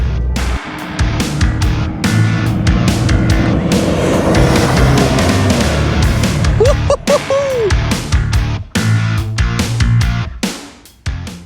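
A Ford Raptor truck with a steering death-shake fault rumbles steadily down an off-road trail, a loud continuous engine and road drone with jolts and knocks, fading near the end.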